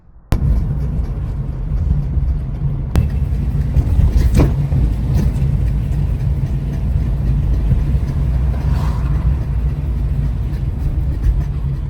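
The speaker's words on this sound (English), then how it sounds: "here's a quick voice clip of how loud the noise is when I'm driving" Loud, steady low rumble and road roar from a Honda Civic while driving, with a damaged rear control arm after an accident, droning continuously at close range with a few brief knocks and no talking.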